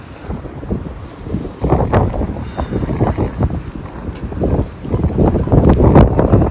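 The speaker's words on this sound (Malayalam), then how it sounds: "നല്ല കാറ്റുണ്ടൊന്ന് പിടിച്ചു നിൽക്കുകയാണേ." A strong storm wind in Ireland roars and buffets hard against the microphone in loud, uneven gusts that swell and ease throughout, with no speech over it.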